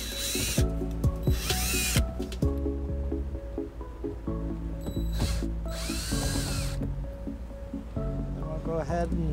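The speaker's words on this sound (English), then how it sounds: "we'll go ahead and start with the Phillips screws." A cordless power drill backs out Phillips screws on the cargo-area trim of a 2011 Toyota RAV4, close up, in several short bursts of whirring with ratcheting clicks between them and a couple of longer high-pitched runs.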